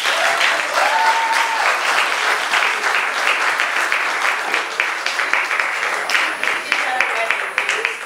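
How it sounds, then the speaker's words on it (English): A youth council awards audience claps steadily in a dense, continuous round of applause that stays loud throughout, with some voices mixed in. "Can you guys please give a round of applause to Khadijah Webby?"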